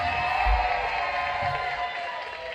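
A game show studio audience claps and cheers together in a dense, steady burst that tapers slightly toward the end, with a few low thumps near the start.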